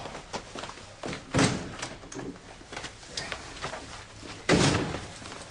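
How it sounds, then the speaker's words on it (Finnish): A door is opened with a series of knocks, clunks and latch rattles, capped by two heavy thuds, the loudest near the end, close by with no talking. "no, avaa vaikka ovi"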